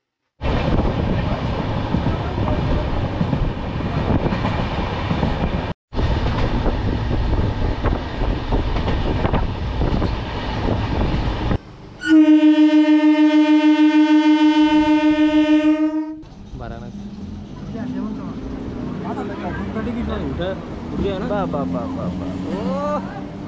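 Indian Railway 12354 Lal Kuan Express running, a steady close rumble for about twelve seconds, then a loud sustained horn blast of around four seconds, followed by quieter rolling noise.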